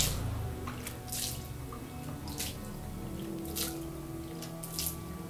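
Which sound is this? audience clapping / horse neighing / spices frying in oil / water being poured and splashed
water being poured and splashed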